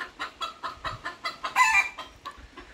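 Sebright-type chickens clucking and squawking in a rapid, repeated series of short calls, fairly close, with one louder, harsher outburst midway.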